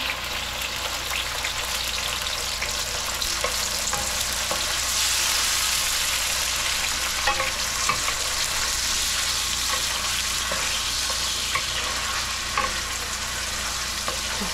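Tomatoes fry in a pan for sarsiado, with a steady loud sizzle throughout, dotted with small pops and occasional stirring scrapes.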